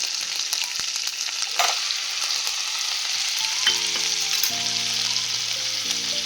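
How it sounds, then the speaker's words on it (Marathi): Onion paste for pav bhaji frying in hot oil after ginger-garlic paste, a loud continuous close sizzle with stirring scrapes, alone without talk. "आता याच्यात कांद्याची पेस्ट टाकूया"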